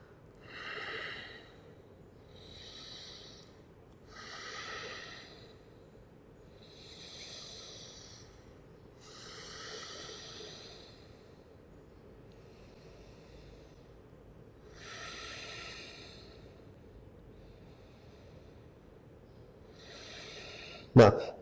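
Slow, audible exhalations during a hatha yoga forward bend, a series of soft breathy hisses repeating every few seconds with quiet gaps between, ending in a brief louder knock.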